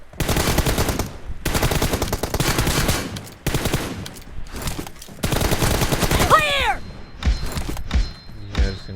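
Loud, close automatic gunfire in a multiplayer shooter video game arrives as repeated rapid bursts broken by short gaps, with one descending whistling sweep in the middle.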